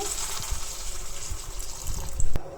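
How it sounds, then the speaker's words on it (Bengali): Water poured into a cooking pan over a lowered flame for a raw banana and hilsa fish dish, a soft continuous gush with light trickling that swells briefly near the end. "পানি দিয়ে দিচ্ছি"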